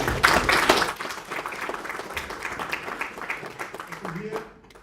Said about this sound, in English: I want to ask you to give a warm applause to the panelists